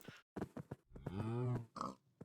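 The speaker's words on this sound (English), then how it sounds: "There's cows all up and down the street." Cows mooing in Minecraft, a drawn-out bovine moo amid short grunting animal calls, close and fairly loud, with no talk.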